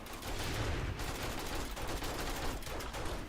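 Gunfire in the survival game 7 Days to Die: dense, continuous volleys of rapid shots overlap into a loud, sustained barrage with no pauses.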